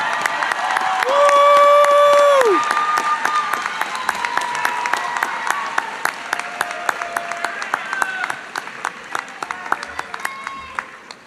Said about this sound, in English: give them a warm round of applause for those that played a significant role in your